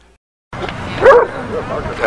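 An adopted dog gives a short close bark-like yelp in the middle of a brief stretch of lively sound, with people's voices mixed in around it.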